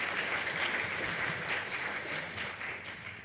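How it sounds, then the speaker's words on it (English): Audience applause at a hacker-conference talk on elliptic curve cryptography, a soft, distant-sounding wash of clapping that continues evenly and fades slightly toward the end. "But Tom, everyone, big round of applause for him."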